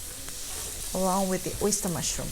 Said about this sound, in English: I'm going to stir fry the onion first with very small pinch of salt, and then the carrots goes in here